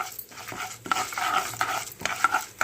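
Urad dal and chana dal sizzle steadily in hot oil as a tempering for a beetroot and coconut fry, a close, continuous crackle with occasional stirring scrapes.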